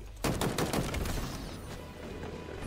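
A Halo machine gun fires a fast sustained burst of loud, close shots that runs continuously before easing off slightly.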